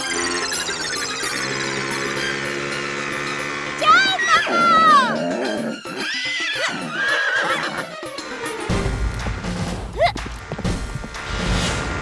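A horse whinnies with rising and falling neighs in a comedy television scene, alongside background music and people talking, fairly close and loud.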